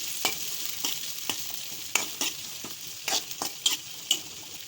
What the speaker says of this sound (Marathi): कढाई ठेवलेली आहे भाजी बनवण्यासाठी तर याच्यामध्ये कांदे घालूया आणि लाल मिरची घालूया